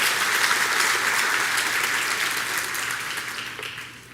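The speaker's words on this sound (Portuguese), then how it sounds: "Pode dar uma salva de palmas se você quiser" Audience applause fills the room, a dense, steady wash of many hands clapping that holds loud for several seconds before thinning and fading toward the end.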